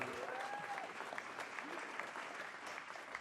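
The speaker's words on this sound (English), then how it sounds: "clap it up for that" Sustained audience applause fills a summit interview session, dense and steady from start to finish, with a brief whistle near the beginning rising above the clapping.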